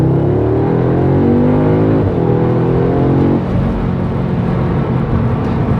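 An Audi RS car engine on a test drive pulls hard with a loud, steady rumble whose pitch rises, dips at a gear change, then climbs again.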